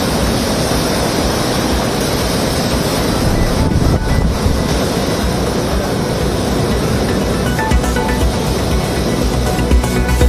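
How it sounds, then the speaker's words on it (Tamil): Rough, stormy sea surges against the Velankanni coast under a cyclone warning, a continuous loud roar of crashing surf with no voices. "வேளாங்கண்ணி, கோடியக்கரை பகுதிகளில் கடல் சீற்றம்."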